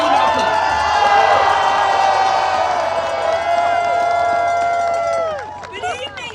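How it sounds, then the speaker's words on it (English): A large outdoor crowd at a political rally outside the U.S. Capitol cheers and whoops loudly and steadily for several seconds, then the roar fades and thins out near the end. "Give them a Minnesota level round of applause."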